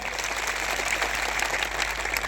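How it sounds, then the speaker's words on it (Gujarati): A crowd at a political rally applauds, a dense, continuous patter of clapping throughout, loud and steady without pause. "એકવાર જોરદાર તાળીઓ પાડી લો"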